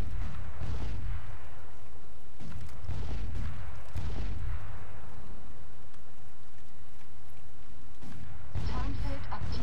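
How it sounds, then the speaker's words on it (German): A tank in Crysis Warhead fires, giving several heavy booming blasts spaced a few seconds apart over low rumble, loud and close, with a voice speaking in between. "Okay, da kommt der Panzer."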